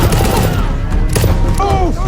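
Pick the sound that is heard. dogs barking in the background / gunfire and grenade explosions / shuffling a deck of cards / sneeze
gunfire and grenade explosions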